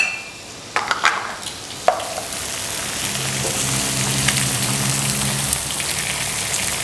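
Egg frying in a pan for pad thai with chicken, a steady crackling sizzle running throughout, with a couple of sharp utensil knocks early on.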